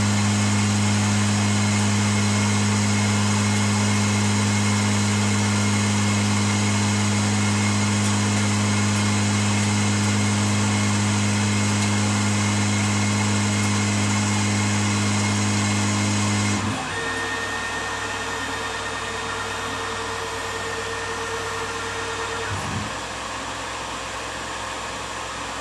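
Tormach RapidTurn CNC lathe machining a workpiece held between centres on a finishing cut, a loud steady motor whine with strong hum that drops abruptly partway through to a quieter running tone, with no talk.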